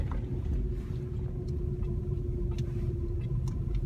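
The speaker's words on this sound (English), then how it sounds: "so we're taking a drive in the cemetery" A car drives slowly through a cemetery, a low steady engine rumble heard from inside the vehicle, with faint light ticks and rattles over the drone.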